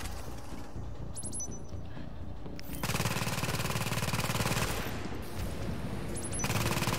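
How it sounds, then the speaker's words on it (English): A deployed automatic turret in the video game The Division fires dense, rapid bursts in two long stretches, loud and continuous over steady background game noise, with no talking. "And it'll sit there and start ripping people to shreds."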